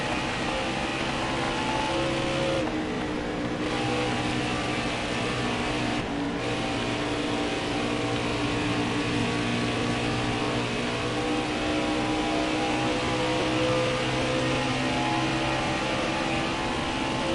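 Race truck engines roar at Texas in the NASCAR Heat 4 truck series on the final lap, making a loud, continuous drone with steady tonal whine and no break, with no voices.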